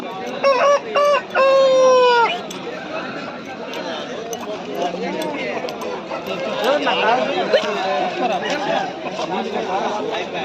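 A rooster crows loudly up close amid clucking chickens and roosters at the Pileru Sunday fowl market, over a dense crowd of people chattering and bargaining.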